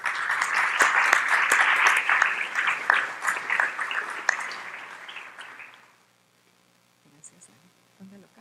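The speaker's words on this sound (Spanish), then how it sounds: "quisiera pedir que por favor recibamos con un aplauso a María" A symposium audience applauds to welcome a speaker, loud dense clapping that holds for several seconds and then fades out into near silence, followed by a few faint sounds.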